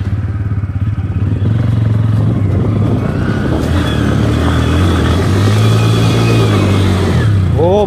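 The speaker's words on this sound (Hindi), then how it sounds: "इतना स्पीड करने लगा था टायर की, मेरे को लगा कि अब तो बाइक पीछे गया।" Bajaj Pulsar motorcycle accelerating hard with the rear tyre spinning, a loud continuous engine drone that rises in pitch as it revs, close and steady throughout with no talk.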